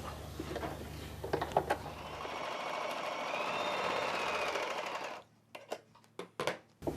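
A sewing machine stitches a double-folded fabric edge for a maxi dress, running in one steady mechanical burst for a few seconds before stopping, followed by scattered light clicks and handling noises.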